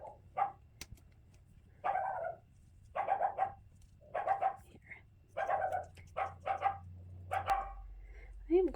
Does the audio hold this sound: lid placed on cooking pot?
no